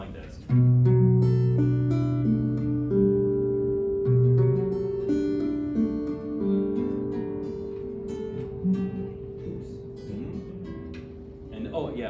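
A fingerstyle acoustic guitar holds a low bass chord while picked arpeggio notes cascade over it. The notes ring and overlap, close and clear, at a moderate volume.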